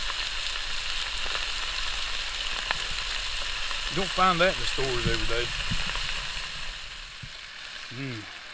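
Three thick strips of bacon from a 700-pound hog sizzle and spit steadily in a crowded pan, a constant close frying hiss under a voice.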